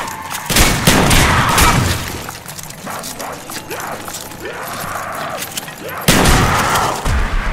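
SMG gunfire in the video game Black Ops Zombies, loud bursts of rapid shots in two clusters with a calmer stretch of scattered shots and noise between them.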